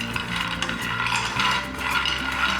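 Almonds dry-roasted in an empty pan with no ghee or oil, stirred so the nuts rattle and scrape against the metal in a steady, close, dry rasping shuffle.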